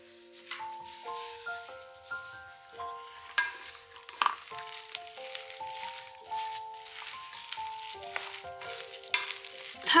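A sakura shrimp rice cake mixture with stir-fried ingredients is stirred in a hot pan, giving soft scraping and a light sizzle under steady background music.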